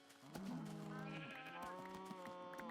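A Minecraft sheep bleats once in a wavering, drawn-out cry, near and clear, during play in a beta-themed modpack of Minecraft 1.20.1.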